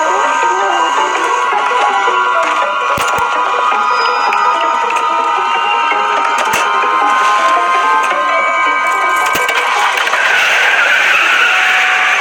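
A car skids away in a horror video game. Loud, sustained tire screeching and engine noise run throughout, with sharp clicks and a harsh surge toward the end.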